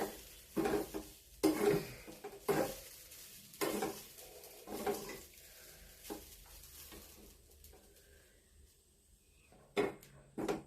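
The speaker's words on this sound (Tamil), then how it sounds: "நல்லா சிம்லயே வச்சு வறுத்துக்கோங்க" Grated coconut roasted slowly in a pan on low heat, stirred in irregular scraping and rustling bursts with a faint sizzle between them, close by and without talk.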